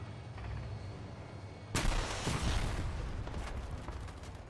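Launcher and gunfire hitting a tank in Battlefield 6: a sudden loud blast cuts in partway through, followed by a continuous roar of rapid gunfire and impacts.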